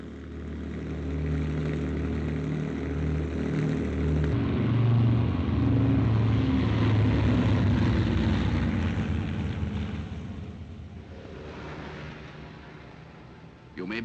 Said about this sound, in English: And here is London Airport.